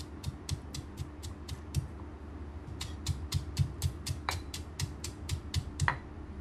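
A pestle pounds shallots in a mortar in a steady run of about twenty close, crisp strikes with a brief pause early on, each hit short and sharp.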